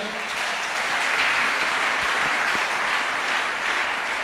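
Church congregation applauding during a sermon on the Bible, a continuous even wash of many hands clapping at moderate volume throughout.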